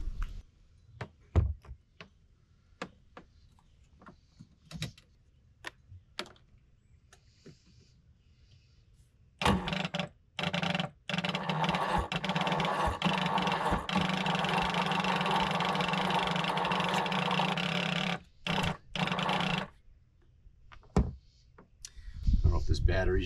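A jet ski engine being cranked over during a compression check: scattered clicks and knocks, then about ten seconds of loud, steady whirring starter cranking with brief pauses and a final short burst; speech at the start.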